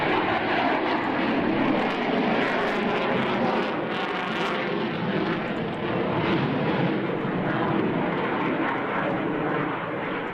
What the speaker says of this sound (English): What an air show this was.